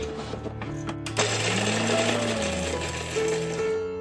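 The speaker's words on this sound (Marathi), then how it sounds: "मी आधी ना काजू घेते मिक्सरला लावून" A mixer grinder coarsely grinding cashews for butter paneer masala gravy, a steady loud motor whine with rattling of the nuts in the jar, running continuously throughout.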